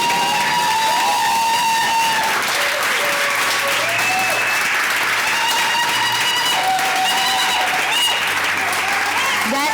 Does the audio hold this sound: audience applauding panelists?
yes